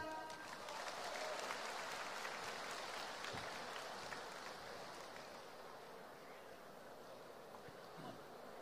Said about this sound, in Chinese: 得嘞，感谢大家的掌声。